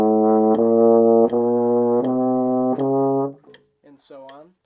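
Euphonium playing an F chromatic scale in quarter notes, four sustained, evenly spaced notes stepping upward, full and close, followed by someone briefly speaking.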